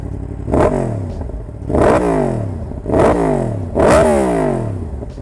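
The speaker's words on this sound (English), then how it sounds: "Let's go ahead and give it some revs." A Yamaha MT-10 motorcycle engine revs hard four times in a row, each blip rising to a loud roar and falling back to a rough idle, close by.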